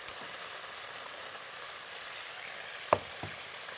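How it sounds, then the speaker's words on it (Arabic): Carrots and onions sautéing together in a pan for Saudi kabsa give off a faint, steady sizzle. There are a couple of brief utensil knocks near the end and no talk. "الجزر مع البصل. ياخد تشويحه الاول كده."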